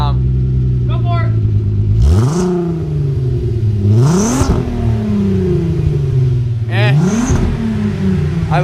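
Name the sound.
VW Mk4 VR6 engine revving with long cherry bomb muffler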